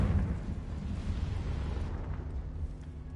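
A deep, rumbling explosion from the Confringo spell in Hogwarts Legacy, booming loudly at the start and then rolling on as a dense low roar that slowly fades.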